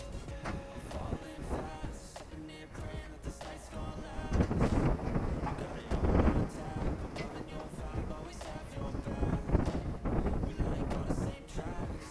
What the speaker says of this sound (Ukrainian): Погодка в нас погіршується, вітер підсилюється.